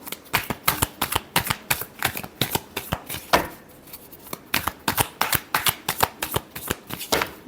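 A deck of tarot cards is shuffled by hand in quick, rhythmic riffles, with dozens of sharp papery flicks close up and no speech.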